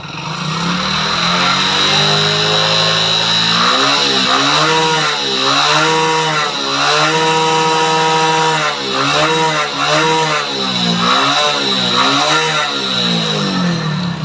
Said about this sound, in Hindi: तो बाइक हमने स्टार्ट कर दिए है, और अब हम सबसे पहले इसे फुल एक्सीलेटर लेके हम आपको इसका वाइट स्मोक दिखाते हैं।